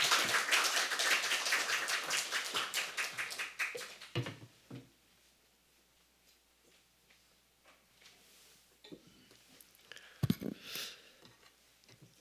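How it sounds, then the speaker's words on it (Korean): A congregation at a dawn church service applauds to welcome the pastor, with brisk, fairly close clapping that fades over about four seconds, then only scattered faint taps and knocks in a quiet room. "나오실 때 박수로 환영하도록 하겠습니다."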